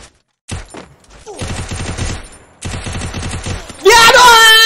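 Loud video-game gunfire crackles in rapid automatic bursts separated by short pauses, with a brief gap of silence near the start, and a harsh ringing burst at the end.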